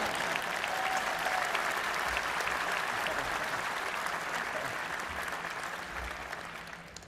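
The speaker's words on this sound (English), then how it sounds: "How about a round of applause?" A crowd applauds at the inauguration ceremony of Baltimore County Executive John Olszewski, a steady wash of clapping from a large audience that slowly fades toward the end.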